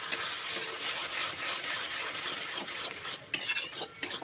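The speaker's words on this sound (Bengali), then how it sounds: "বেশ কিছুক্ষণ ধরে নেড়েচেড়ে রান্নাটা করতে হবে" Taro greens (kochu shak) are stirred and tossed in a wok, giving steady scraping and clinking of a spatula against metal over a light sizzle, with a few sharper knocks toward the end.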